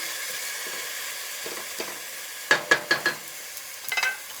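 Garlic mixture for stuffed grapevine leaves stirred in a pan on a stove over medium heat, a constant sizzle broken by a quick series of clinking spoon-against-pan taps, close and without talk.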